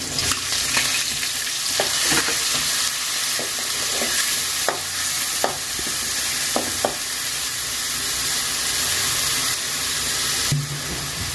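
Chopped green chilies and onions for masala dosa stir-frying in a hot oiled pan, a steady close sizzle with scattered scraping stirs of a spatula throughout, no talking.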